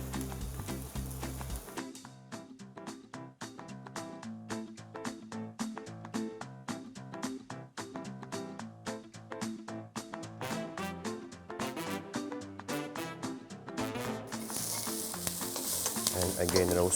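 Rosemary and thyme roast in a hot pan as the base of a sauce for beer-braised boar or pork, giving a steady sizzle broken by quick rhythmic clicks of stirring, close and fairly loud, with no voices.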